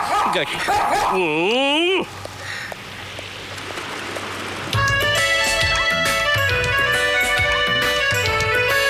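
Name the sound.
dog barking in a film scene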